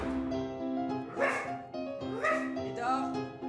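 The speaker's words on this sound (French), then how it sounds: "Je dois m'occuper du chien." A dog gives several short, high yips and whimpering barks, close and fairly loud, set against a steady tonal household background.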